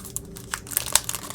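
Plastic and paper packaging around travel-notebook inserts and washi tapes crinkles and tears open in quick, sharp bursts, close up with no speech.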